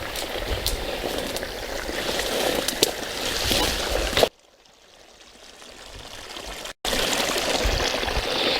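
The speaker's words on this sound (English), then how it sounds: "Had a lot of rain this week, so the creek's quite swollen." Rushing water of a rain-swollen creek flows loudly and steadily, cut off by a quieter stretch in the middle before the strong flow returns.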